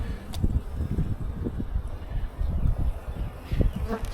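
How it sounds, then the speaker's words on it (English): Close, continuous buzzing of honeybees crawling over a hive frame, a dense wavering drone with small surges as individual bees pass near. "There are bees walking around with pollen on their legs"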